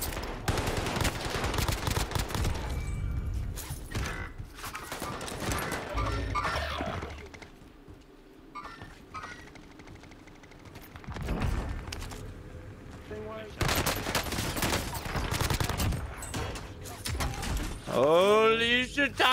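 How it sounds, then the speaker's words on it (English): Video game gunfire comes from several directions in dense bursts of machine-gun and rifle shots, loud and sustained with brief lulls, while voices talk over the shooting. "I'm getting shot from everywhere,"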